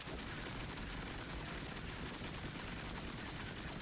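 Rapid, continuous gunfire from the Harlowe weapon in a video game, a dense unbroken stream of shots at a steady fast rate, quiet overall but filling the whole moment without any voices.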